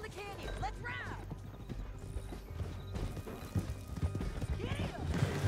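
Horse hooves clattering in a quick gallop down a canyon, a steady rough drumming with a whinny or two, mixed with shouting voices and commotion.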